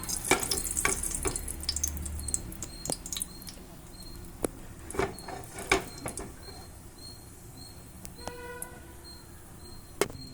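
Whole spices (cinnamon, cloves, cardamom and star anise) frying in hot ghee, with a steady soft sizzle and scattered stirring clicks and knocks across the span, moderately close and without talk.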